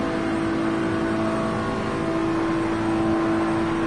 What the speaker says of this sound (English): The engine sounds down on power, but he is still driving.